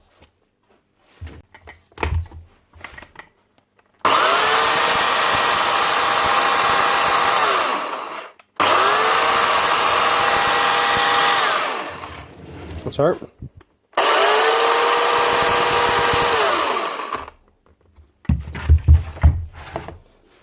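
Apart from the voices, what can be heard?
chainsaw running after blade tensioner repair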